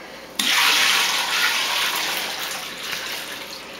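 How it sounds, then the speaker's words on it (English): Wort solution for a pale ale poured into a few gallons of water, a sudden loud rushing pour that starts abruptly and continues steadily, easing slightly toward the end. "So now I will pour the wort solution in the 3 gallons of water to bring me up to 5."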